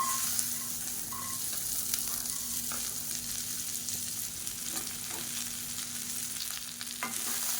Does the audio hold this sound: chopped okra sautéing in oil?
yes